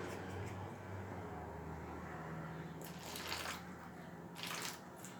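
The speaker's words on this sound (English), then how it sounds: "I'm just gonna gently pour in the water." Water gently poured into a bread dough mixture comes through as two short, soft splashing bursts over a steady low background hum, with no talking.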